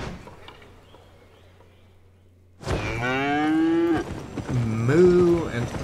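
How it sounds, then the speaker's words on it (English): Cattle moo in the online role-playing game Albion Online. After a quiet, low hum, two loud, drawn-out moos follow close together with no talking. "Moo and even Nux the Ux is excited."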